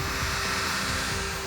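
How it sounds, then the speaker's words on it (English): Paddle drill slowly mixing a two-part polyaspartic floor coating, a steady loud motor whine with constant whirring, close and unbroken. "I'm going to mix them slowly with a paddle drill"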